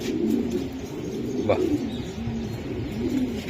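Racing pigeons at a breeder's loft give low, soft coos that repeat steadily nearby, with one brief exclamation from a man.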